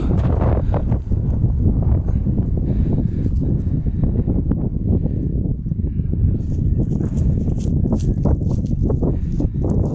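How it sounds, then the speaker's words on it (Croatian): Strong jugo wind blowing hard in Otočac, a continuous low roaring rumble as gusts buffet the microphone without pause. "Evo baš puše dosta jak jugo."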